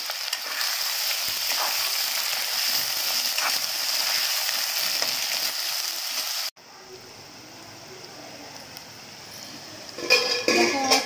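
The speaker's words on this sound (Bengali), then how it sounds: "তেল বেশ গরম হয়ে আসছে, পেঁয়াজ দিয়ে দিচ্ছি" Onions fry in well-heated oil for a chicken tehari polao, giving a steady, close sizzling hiss. The tone shifts to a quieter, thinner sizzle partway through, with a few clatters of stirring near the end.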